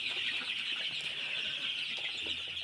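A flock of chickens in a poultry shed, sick with Gumboro disease, fills the space with a steady, dense murmur of clucking and chirping at even loudness, with no talk.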